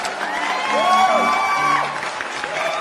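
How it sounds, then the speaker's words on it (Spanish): Audience at a talk on Dickens's Hard Times welcomes a guest with clapping, cheers and a few whoops, a lively burst of crowd noise with voices mixed in throughout. "damos la bienvenida con un fuerte aplauso a nuestro invitado"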